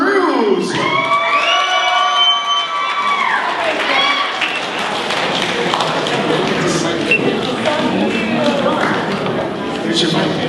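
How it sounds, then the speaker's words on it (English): At a Filipino American media awards ceremony, a crowd cheers and applauds an awardee, a dense, loud, sustained roar of clapping and shouts that continues throughout, with brief whoops near the start. "How about a big round of applause for our awardee, the beautiful Miss Irene Cruz."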